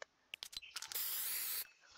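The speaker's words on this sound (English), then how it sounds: "Here is his repulsor spray." Iron Man's repulsor spray in Fortnite fires as a sustained bright hissing spray for about two-thirds of a second, preceded by short clicky game effects.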